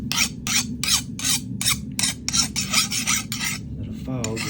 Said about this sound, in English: that a file just skates across it. You can hear it's not digging in, it just skates across